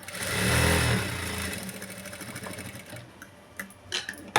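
A sewing machine stitching the front darts of a blouse, a loud mechanical whirring run that slows and fades, followed by a few scattered clicks and knocks as the work is handled.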